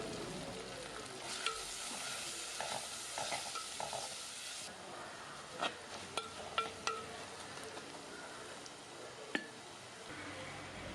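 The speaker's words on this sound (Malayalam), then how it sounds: "ഇത്രയും സാധനം ഇതിനകത്തിട്ട് നല്ലപോലെ ഒന്ന് വഴറ്റി നമുക്കെടുക്കാം" Onions and curry leaves sauté slowly over a low flame in a pan for Kerala-style sardine curry, a soft steady sizzle with occasional stirring scrapes and taps, fairly quiet and free of talk.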